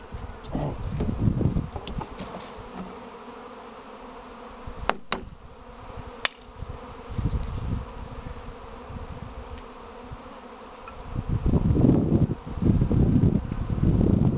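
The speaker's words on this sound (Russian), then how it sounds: "Пчелы уже сливаться начали, сейчас забираем." The first honeybee swarm of spring, in April, beginning to cluster: a dense continuous buzzing drone, swelling louder at times, with wind rustle and a few sharp knocks in the middle.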